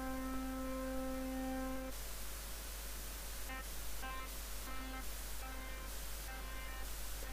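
A ZynAddSubFX synthesizer in LMMS holds a buzzy tone that abruptly turns to a noisy hiss as a dial is turned, then pulses on and off in short bursts, over a steady low hum.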